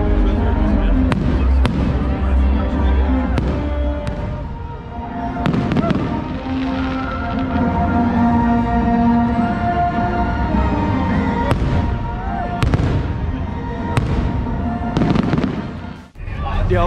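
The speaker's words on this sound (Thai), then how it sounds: "ตอนนี้ฮะถึงเวลาที่เขาจะจัดแสดงโชว์พลุ" Fireworks bursting repeatedly at Star Wars Celebration 2022 in Los Angeles, loud booms and crackles scattered across the scene, with a crowd murmuring and music playing underneath.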